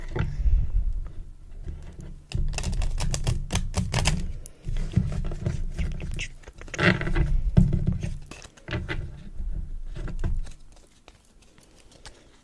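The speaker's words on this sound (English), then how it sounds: "first I'm gonna shuffle these red ones together" Rapid papery riffling and flicking of playing cards being shuffled, in repeated bursts with brief pauses, close and fairly quiet.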